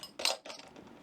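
A bottle opener pops the cap off an IPA beer bottle outdoors by a garden shed bar, giving one sharp metallic clink followed by a brief fading rattle, close and quiet.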